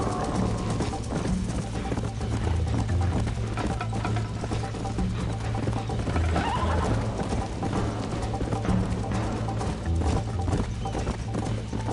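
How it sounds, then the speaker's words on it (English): In the video game Red Dead Redemption, a horse's hooves clip-clop steadily over a continuous bed of game music and ambience, with the rhythmic beats sitting under a dense, loud mix. "I'm trying to tap L3 for my horse stamina"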